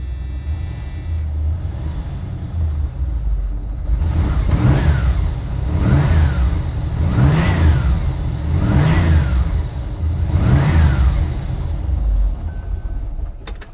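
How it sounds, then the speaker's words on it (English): A 1979 Dodge Lil Red Express truck's fuel-injected 360 V8 with stacks idles with a deep rumble, then revs hard five times in a steady rhythm, each rise and fall loud and close. "So let's go ahead and crank it up."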